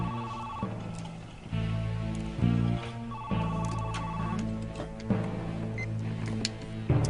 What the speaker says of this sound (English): this is an important phone call I've been expecting